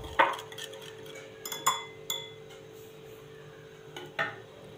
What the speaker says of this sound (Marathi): तुम्ही रवीने किंवा विस्करने हे आधी सुरुवातीला छान फेटून घ्यायचं आहे।